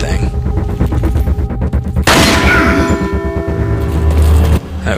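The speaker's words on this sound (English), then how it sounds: "Shoot that thing." Gunfire in the Resident Evil 4 video game, with loud, dense bursts of shots and booming impacts close up, a heavy blast near the middle, and a player's voice talking over the action.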